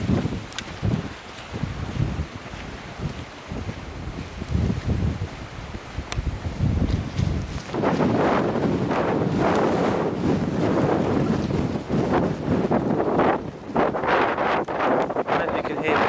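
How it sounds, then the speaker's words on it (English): Wind buffeting the microphone at Sark harbour, with water and boat noise before boarding a catamaran back to Jersey; steady broadband rushing that grows louder and gustier in the second half, with voices murmuring underneath. "This is the harbour in Sark."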